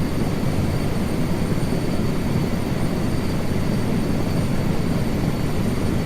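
Helicopter flying in Microsoft Flight Simulator 2024, a steady, loud rotor and engine drone holding constant throughout with no speech.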